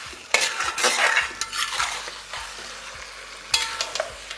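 Mutton stirred in a pan over a high flame, with spoon scrapes and clanks against the metal coming in irregular bursts over a soft sizzle, close and clear with no voices.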